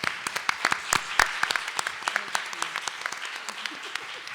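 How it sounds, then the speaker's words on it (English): Audience applause at a summit panel, a modest room of scattered individual claps, fairly close and sparse, tapering off toward the end. "let's give them a round of applause, thank the panel."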